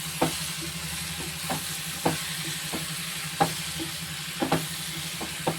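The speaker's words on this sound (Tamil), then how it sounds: "இதை வந்து இந்த மசாலா எல்லாம் படுற மாதிரி கொஞ்சம் வதக்கி விட்டுக்கோம்" Prawns being sautéed in masala in a pan, a soft, continuous sizzle broken by irregular sharp scrapes and taps of a spoon stirring, heard close and alone.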